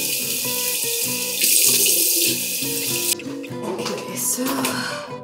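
A bowl is washed under a running kitchen tap, with a steady loud rush of water that shifts in tone as the bowl catches the stream and then drops after the flow changes.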